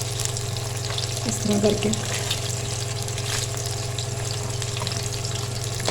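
An egg for egg fried rice frying in a pan, with a steady close sizzle and hiss running throughout and a brief spoken phrase over it.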